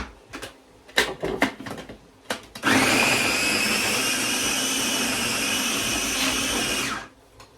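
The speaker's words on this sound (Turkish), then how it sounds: "Kıymayı çekiyorum." A few clicks and knocks, then an electric meat grinder whirs loudly and steadily for about four seconds while grinding mince before stopping abruptly.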